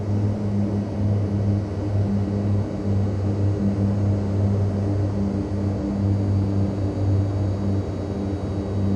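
Skyvan propeller aircraft in Microsoft Flight Simulator 2020, a steady low engine and propeller drone with strong humming tones, continuous and even throughout with no voices.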